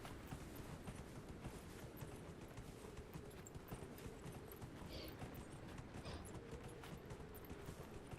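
A horse gallops in Dragon Age: Inquisition, with steady rhythmic hoofbeats that continue throughout over a busy, fairly quiet game soundscape.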